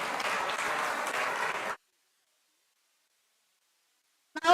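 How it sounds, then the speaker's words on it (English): An audience at a yoga festival performance applauds, a dense, steady burst of clapping that cuts off abruptly into silence before a brief sound at the very end. "Give a big round of applause once again."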